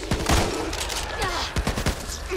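Rapid gunfire in the zombie shooter game Back 4 Blood, a dense burst of overlapping shots over continuous game noise and background sound.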